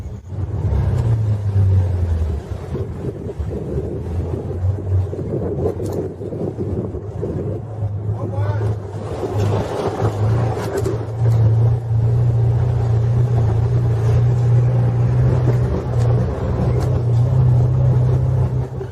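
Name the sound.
makeshift car driving on the road to Moya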